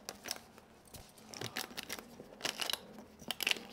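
A dog crunching on a carrot at close range, with irregular bursts of sharp crisp bites separated by quieter chewing.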